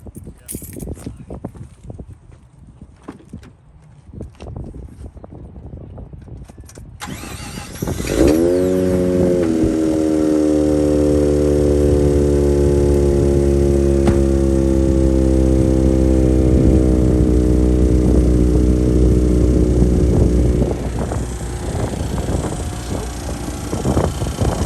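A Mazda RX-8 rotary engine, started after sitting for a week, cranks briefly and catches, then settles into a loud, steady, buzzy idle heard close up with wind noise over the microphone.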